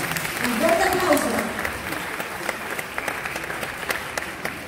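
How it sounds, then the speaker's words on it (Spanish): Loud audience applause at a music awards ceremony in Ecuador, dense clapping from a large crowd with a host's voice speaking briefly over it near the start before the clapping carries on alone. "Un fuerte aplauso"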